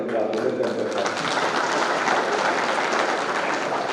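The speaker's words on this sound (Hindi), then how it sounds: "मैं चाहता हूँ कि तालियां बजाकर उनका अभिनंदन करता हूँ।" An audience at a property card distribution event with a cabinet minister breaks into sustained applause, a dense, even wash of clapping that holds steady throughout at moderate distance.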